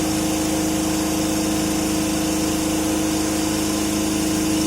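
A salient pole synchronous generator (alternator) runs steadily during a slip test, giving a loud, continuous machine hum with a constant engine-like drone and no talk.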